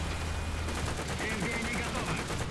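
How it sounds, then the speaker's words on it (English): Rapid machine gun fire from a tank in the War Thunder video game rattles in continuous bursts, loud and close, layered over engine rumble. "I celebrate with some machine guns"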